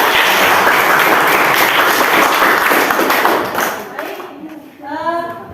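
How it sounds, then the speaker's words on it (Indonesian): A class claps together in applause, sustained and dense for about four seconds before tapering off, with a voice speaking at the end. "Aplaus untuk kita semua"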